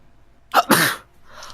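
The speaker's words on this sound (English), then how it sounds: "Stop sneezing" A single sharp sneeze during an online tabletop role-playing game session, starting with a quick intake and bursting into a loud, breathy explosion before fading into faint room noise.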